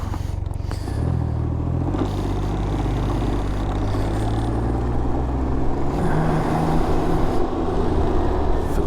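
A Can-Am Ryker three-wheeled motorcycle out on a test ride, its engine holding a steady, close, low drone that shifts pitch slightly throughout, with no voices.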